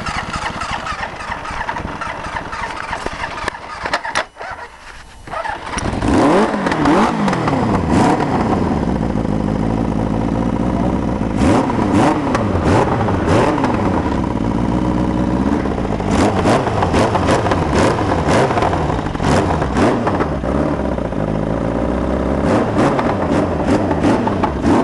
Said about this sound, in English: 325 Polaris, 2002 edition with a 750 Kawasaki engine